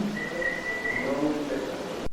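A faint, thin whistle from a paranormal recording made in a reputedly cursed video rental store, one sustained high tone about a second long under a hiss of background noise, followed by a sharp click.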